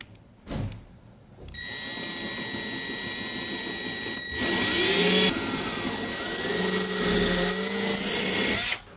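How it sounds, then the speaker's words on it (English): A power drill with a 7/32 inch bit whirs steadily after a brief knock, its motor pitch shifting as it bites into metal brackets, loud and close, with no voices. "I'm gonna be using a 7/32 inch drill bit to drill these out."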